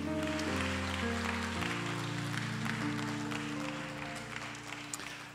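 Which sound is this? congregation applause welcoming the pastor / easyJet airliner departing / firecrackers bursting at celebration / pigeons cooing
congregation applause welcoming the pastor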